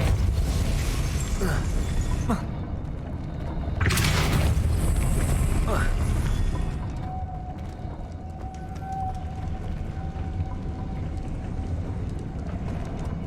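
A Depulso force spell cast in Hogwarts Legacy sounds as a loud rushing whoosh and boom that swells, then fades into a low ambient rumble.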